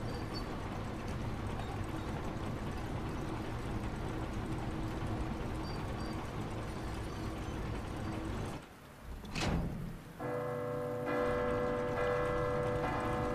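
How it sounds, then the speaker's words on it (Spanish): A bell struck once inside the Resident Evil 2 Remake game, ringing out with a bright metallic tone after a brief lull in the steady game ambience, then a mechanism clunks into motion. "Para hacer sonar la campana."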